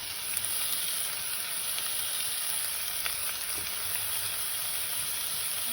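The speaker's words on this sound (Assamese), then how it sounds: "মই ৰচুন আদা পেষ্টটো দি দিছোঁ।" Garlic ginger paste sizzles in a hot pan, a dense, even hiss that holds steady and fairly close for the whole stretch with no voices.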